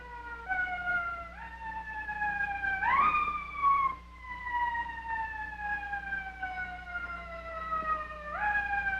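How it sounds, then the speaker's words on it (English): Emergency vehicle siren wailing in slow rising and falling sweeps, heard at a moderate distance over a low steady hum, with no voices. "I hear a siren."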